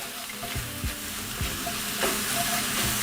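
Onions with coriander and parsley for a Moroccan chicken tagine frying in a pan, a close continuous sizzle with periodic stirring scrapes and thumps.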